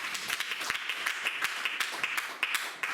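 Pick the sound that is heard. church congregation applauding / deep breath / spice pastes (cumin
church congregation applauding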